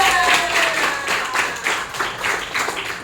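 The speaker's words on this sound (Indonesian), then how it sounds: "Tepuk tangan semuanya." Group of participants in an exercise class clapping hands together in short, uneven bursts, moderately loud and fairly close, with faint voices underneath.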